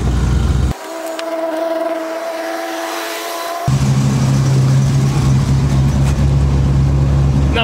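A GMC motorhome engine drones loudly and steadily, then surges into a louder, rougher roar as the throttle kicks in, with a whining hum partway through.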